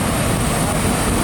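A loud, steady roar of an airplane engine fills the clip, broadband and unchanging, with no other distinct sounds.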